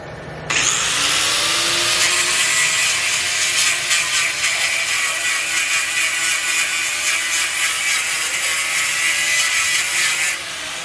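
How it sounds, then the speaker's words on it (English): A power tool cuts through a race car's brake line with a loud, continuous, close grinding whine. It starts abruptly and holds steady for about ten seconds, then cuts off sharply. "There goes Danny's brake line"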